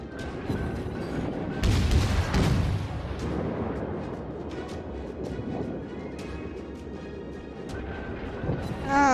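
Naval guns fire in World of Warships, heavy booming salvos near the start followed by a rumbling, crackling battle bed with scattered sharper reports, fairly loud throughout.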